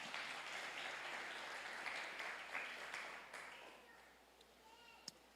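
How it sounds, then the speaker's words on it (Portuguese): Congregation clapping at a church service, a faint steady patter of many hands that slowly tapers off, with a few scattered louder claps near the end. "Aplauda ao Senhor por isso,"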